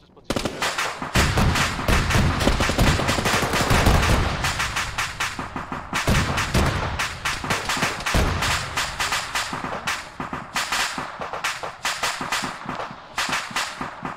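Dense, rapid gunfire rattles almost continuously in an Arma firefight, with heavy automatic bursts and booming impacts, including a frag grenade blast, loud and close throughout.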